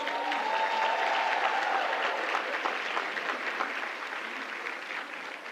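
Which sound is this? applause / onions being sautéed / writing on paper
applause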